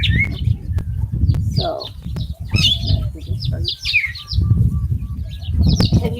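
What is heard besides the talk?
birds chirping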